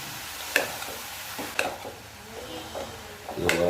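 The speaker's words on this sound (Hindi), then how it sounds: "ये 5 मिनट हमने इसको फ्राई कर लिया है।" Grated carrots fry in a pan over low heat for gajar ka halwa, giving a soft steady sizzle broken by a few sharp scrapes and knocks of a spoon stirring against the pan.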